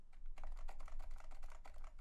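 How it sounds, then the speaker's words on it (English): Typing on a Leopold FC660C Topre keyboard, silent version, a quick close run of soft muted keystrokes with dull thocky clicks, quiet and alone. "Okay, Topre is really strange keyboard."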